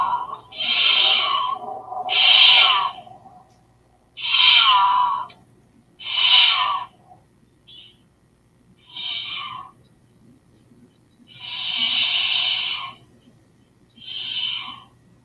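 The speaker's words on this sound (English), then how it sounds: "So that the name of that sound is called caterwauling" Loud, harsh screeching caterwauling yowls from a mountain lion, repeated in bursts about every two seconds with short gaps, close and unaccompanied by talk.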